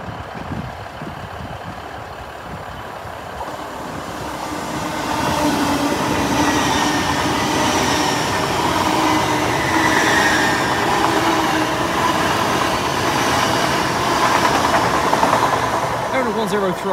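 A Northern Lights train rolls slowly over a flat crossing at Newark Northgate, a steady broadband rumble of wheels and rail clatter that swells after a few seconds and holds loud and near throughout, with some faint talk under it.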